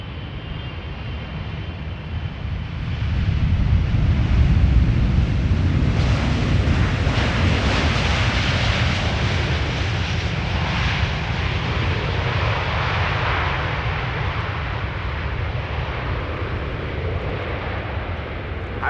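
A KLM Boeing 777-300 arriving at Amsterdam Schiphol from Cape Town gives a loud, broad jet roar that swells quickly, then holds as a sustained rushing drone with some wind buffeting on the microphone.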